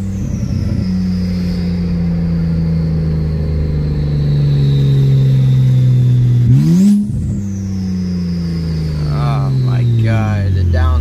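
Tuned turbocharged BMW 335i drones loudly and steadily as it pulls, then a sharp downshift blip makes the revs jump before the engine settles and pulls again, with a voice talking briefly near the end.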